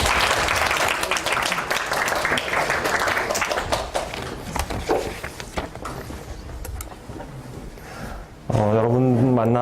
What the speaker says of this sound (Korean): 여러분들이 뜨거운 박수로 맞아주시면